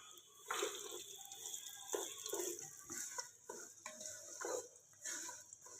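Cracked wheat daliya tipped into desi ghee in a cooking pot, with soft scattered rattles, scrapes and stirring noises, quiet and close, with no one talking.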